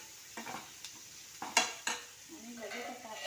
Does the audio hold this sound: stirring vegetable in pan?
yes